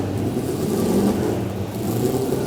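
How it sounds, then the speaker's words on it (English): A 500 BHP classic Ford Mustang race car engine rumbles steadily and loudly at close range in a race paddock, a dense continuous growl with no voices. "car sounds so good."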